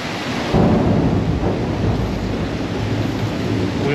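Thunder rumbling through a thunderstorm, a loud deep roll that swells after a quiet start and sustains with a rain-like hiss underneath, no talk.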